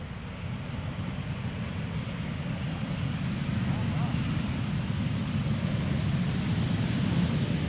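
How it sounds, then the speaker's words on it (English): An airliner landing at Amsterdam Schiphol with idle reverse thrust gives a constant loud low roar and rumble, steady and unbroken throughout, with some wind buffeting at the microphone. "Even if it is an idle reverse landing, you do bleed off some of the thrust."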